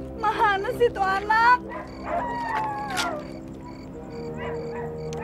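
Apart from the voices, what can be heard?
dog barking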